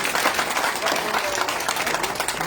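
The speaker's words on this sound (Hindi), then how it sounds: "अच्छा चलो छुट्टी तालियों के साथ" Applause and clapping fill a party headquarters event where prominent social and political figures are joining the BJP, a dense steady roar of hands with crowd noise and some voices mixed in.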